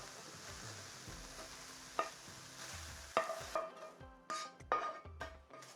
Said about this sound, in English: And then mix that all together.